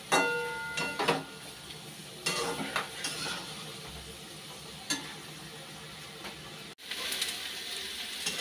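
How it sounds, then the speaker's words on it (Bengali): Fried potatoes and ash gourd are stirred and sautéed in a pan, with a soft sizzle under repeated scraping and clinks of a spatula against the metal, quiet and close. "ভেজে রাখা আলু আর চাল কুমড়োটাও দিয়ে দিচ্ছি এখন। দিয়ে আর একটু কষিয়ে নিই ভালো করে।"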